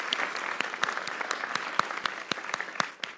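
A crowd claps steadily for India's T20 World Cup cricket win, dense applause with sharp individual claps standing out throughout, fairly close and unbroken.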